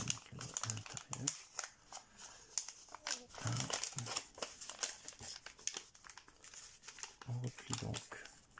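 Paper folded and creased flat while making an origami goldfish: close crinkling, rustling and soft tapping that runs steadily under a quiet voice talking.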